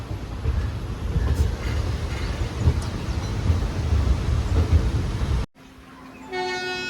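The Thrissur–Kannur express 16609 rumbles at Wadakancheri station in Kerala with a loud, steady rolling roar, then after a short break a train horn sounds.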